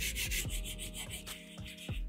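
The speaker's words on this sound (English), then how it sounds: "I'm trying to find a different way of grinding down my graphite." A graphite stick is ground down by hand in a drawing studio, giving a steady gritty rubbing and scraping with repeated strokes, close and fairly loud, with no voices.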